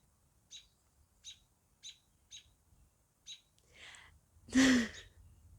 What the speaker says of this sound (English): Can you hear that bird? Hello, Mr. Robin.